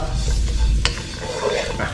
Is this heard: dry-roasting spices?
yes